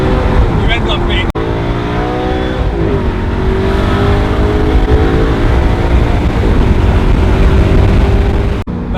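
An Alfa Romeo 8C's Ferrari-derived 4.7-litre V8, very loud and close, revving hard through the gears. The rising roar breaks at quick shifts, then climbs again, with a brief cut near the start and another at the end.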